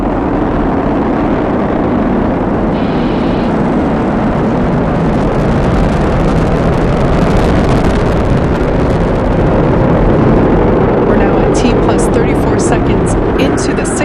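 A SpaceX Falcon 9 carrying the Crew-6 mission lifts off on nine Merlin 1D first-stage engines, producing a loud, continuous broadband roar throughout while a commentator speaks over it.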